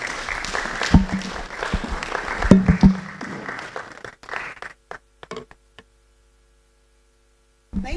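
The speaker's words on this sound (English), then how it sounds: "Let us give him a warm round of applause." An audience at a public lecture applauds steadily and loudly, the clapping thinning into a few scattered claps before falling silent.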